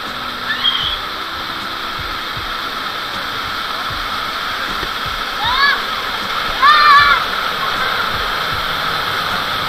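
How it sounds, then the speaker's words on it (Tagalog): Strong, rushing river water at Timbugan River in Cavite, near a small waterfall, makes a steady broadband roar throughout, with a few birdlike chirps rising briefly above it. "Sobrang lakas ng tubig."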